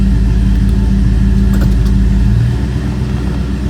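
A 1969 Dodge Super Bee engine runs loud and close during a test drive after transmission trouble, a heavy steady rumble that drops slightly in tone near the end, with no speech.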